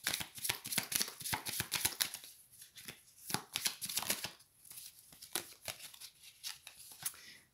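Tarot cards are shuffled in a rapid flurry of crisp riffling and slapping, with a brief pause midway before the shuffling resumes at a steadier rhythm, close and clear.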